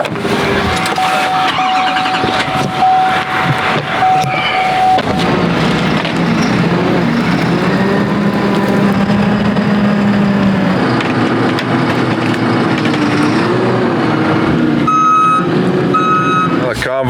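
A convoy of Fendt tractors pulls away on rural back roads, loud continuous diesel engine drone with a steady reversing beep and shifting engine tones throughout.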